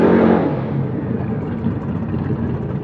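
A muscle car at a drag race start, one of them a Ford Falcon with a big V8, revving hard with a loud opening burst that settles into a sustained rumbling roar nearby.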